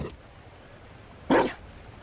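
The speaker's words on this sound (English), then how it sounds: "You found a dog?" A Mabari war dog barks once in a fantasy role-playing game, a single loud, close bark burst standing out over a quiet ambient background.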